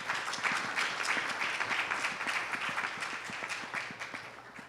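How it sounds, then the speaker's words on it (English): Symposium audience applauds steadily for about five seconds, a dense even patter of clapping heard at moderate level with no voices over it. "Please give them a round of applause."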